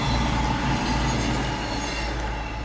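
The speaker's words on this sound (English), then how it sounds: "Wait for the train to go." A train passing by a parked Smart Fortwo city car, a steady loud rumble of rolling wheels and rail noise that holds throughout with no talking over it.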